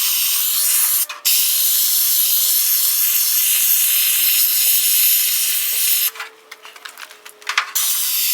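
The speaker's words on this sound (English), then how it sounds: "Okay, I got one good coat of epoxy on this inner panel." A spray gun hisses steadily as epoxy primer goes onto the inner panel of a rust-repaired Chevy C10 hood, a long continuous close spray broken by a brief pause and then a stuttering series of short bursts near the end.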